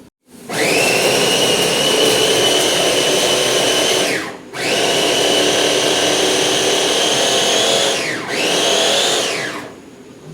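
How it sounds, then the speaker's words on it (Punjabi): Electric grinder whirring loudly as it grinds masala spices, in three steady bursts separated by brief pauses as the motor spins down and restarts. "ਹੁਣ ਆਪਾਂ ਆਪਣਾ ਮਸਾਲਾ ਗ੍ਰਾਈਂਡ"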